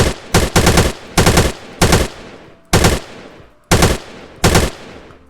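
A gun in a Roblox game fires in burst mode: seven sharp, loud, rapid bursts, each a few quick shots, separated by short gaps.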